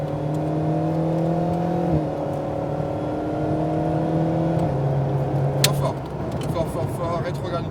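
An Alpine A110R race car accelerates on the Lohéac circuit, its engine a steady droning whine that drops and climbs again through a couple of gear changes, heard close from inside the car.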